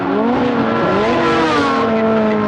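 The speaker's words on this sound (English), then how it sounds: "His engine sounding very thick." Racing car engines roar during a motor race, loud and continuous, their pitch sliding and shifting as the cars accelerate and pass, with a hint of tyre squeal. No one speaks.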